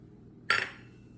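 A spoon clinks once against a bowl while garlic powder and homemade garden chives are mixed into freshly made butter: a single short, bright metallic tap in an otherwise quiet kitchen.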